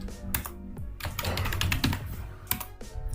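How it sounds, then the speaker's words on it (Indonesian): Short bursts of quick key clicks on a computer keyboard as a password is entered on a Kali Linux machine, close and fairly loud, with brief pauses between runs and no voices. "Saya ketikkan yang simple saja."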